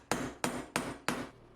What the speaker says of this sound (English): So let's get to hammering.